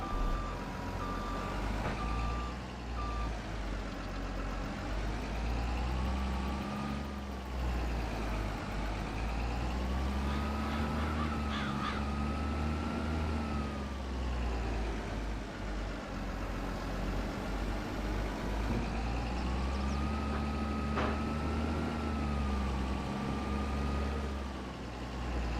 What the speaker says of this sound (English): I'm going to jump in the wheel loader